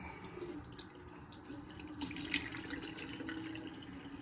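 Water runs steadily from a bathroom tap while a face is being washed, a quiet continuous splashing stream with small fluctuations.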